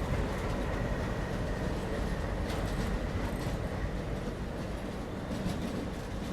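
Passenger train hauled by an ALCO diesel locomotive rolling into New Delhi, a continuous rumble of wheels on rails with faint clatter, heard from inside the carriage at moderate level.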